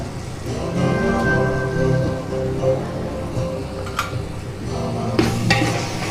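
Salt is stirred into pulungal arisi rice cooking in a pot, with close scraping and mixing strokes over a low bubbling sizzle. A few sharper knocks come near the end, and no one speaks.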